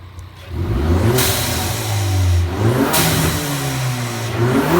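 A 2015 Ford Mustang EcoBoost with a Boomba Racing blow-off valve revs loudly and up close. The engine climbs several times, and a whooshing turbo release follows each rev.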